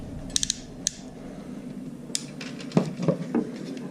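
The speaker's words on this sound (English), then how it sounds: "I can put the wire in, crimp, go to the other side, flip this over," A crimping tool presses butt connectors onto wires for an RV radio wiring harness. Small metallic clicks are followed by a few firmer crunching squeezes and ratchet creaks, close up and fairly quiet.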